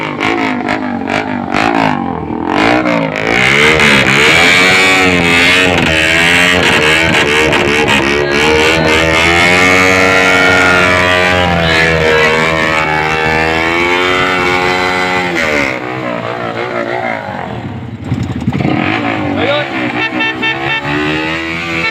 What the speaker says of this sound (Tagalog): Talaga namang napakalakas ng Ducati Panigale